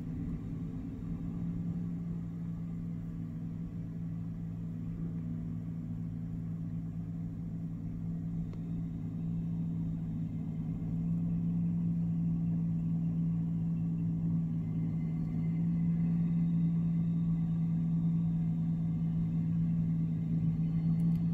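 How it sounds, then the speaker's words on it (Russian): A snow-clearing tractor works a street at night in Norway, a steady low engine drone with a constant hum that grows slightly louder in the second half, heard alone at moderate distance. "И вот следом третий трактор идет, убирает."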